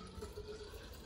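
Filtered water pours steadily into a container for a few seconds, a continuous close liquid trickle with no talking.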